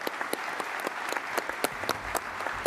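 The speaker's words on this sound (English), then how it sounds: "let's give them a round of applause and thank them for their service and sacrifice" Audience applause at the AUSA Global Force Symposium 2018, a steady wash of many hands clapping with distinct individual claps popping out, moderately loud and continuous throughout.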